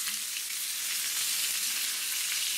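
Crucian carp frying in beer-style batter in a hot pan: a steady, dense sizzle and crackle of oil runs evenly throughout, close and moderately loud, with no voices.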